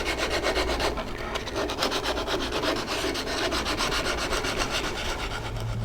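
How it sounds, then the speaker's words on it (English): Sandpaper wrapped around a stick rubs back and forth along the wooden edges of a live-edge footstool top, making a close, steady rasping scrape with a quick regular rhythm and no talk. "I just wrap a piece of sandpaper around the stick and just ease off the edges a little bit."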